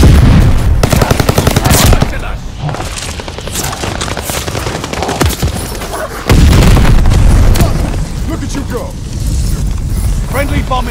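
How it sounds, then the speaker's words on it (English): A bombing run in Call of Duty Vanguard: loud booming explosions and rapid machine-gun fire in dense waves, with a hard burst at the start and another heavy blast midway, while voices speak over it. "Friendly bombing run inbound."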